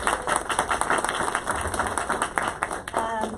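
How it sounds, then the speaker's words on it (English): Audience applause welcoming a speaker at a panel event on AI and societal challenges: steady dense clapping from a crowd, loud and sustained throughout, with a brief voice near the end. "Let's applaud."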